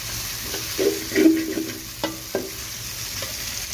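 Sweet pumpkin cooks over high heat in a pot with fried onions and chillies: a low background sizzle broken by several distinct scraping, clattering stirs at irregular intervals, close and fairly loud, with no speech.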